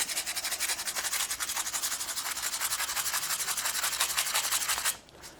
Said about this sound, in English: So I'll just sand away at it.